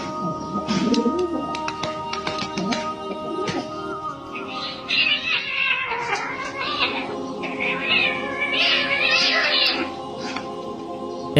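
Cat meowing repeatedly alongside pigeons cooing and fluttering in a courtyard at the Kaaba in Mecca, with the calls rising and falling over steady bird chatter and crowd murmur throughout.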